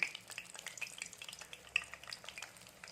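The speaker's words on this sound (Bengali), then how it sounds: "এবার এটাকে আমি একটু ভাজতে দেবো" An egg snack fries in hot oil in a kadai, giving a faint, steady sizzle and crackle with a few brighter pops, heard close and alone.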